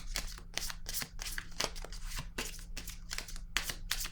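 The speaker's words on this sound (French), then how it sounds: "Je vais déposer une carte encore." Cards handled during a tarot-style reading, a quick series of crisp papery flicks and slaps repeating close up and fairly faint, with no voice heard.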